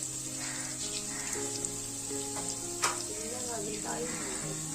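Turmeric stirred into a hot pan of garlic frying in oil gives a steady, close sizzle with faint stirring clinks, while soft voices murmur in the background.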